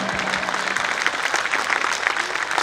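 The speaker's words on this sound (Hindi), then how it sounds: "जोरदार तालियां हो जाए इस टिप्पणी पर एक बार" Loud, sustained applause from an audience at a Holi festival event at an academy, dense rhythmic clapping close by with a faint crowd murmur beneath.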